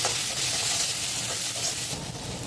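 Potato and tomato fry for rava upma in a pan on an electric chulha, giving a steady, close, loud sizzle with hiss throughout and no talking.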